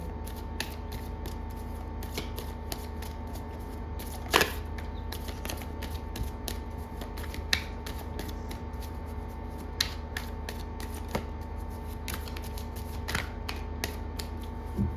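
Tarot cards being shuffled, heard as a continuous quiet riffling patter with occasional sharper taps and slaps as cards fall out, close by, with no talking.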